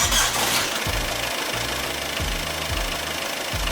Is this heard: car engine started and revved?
yes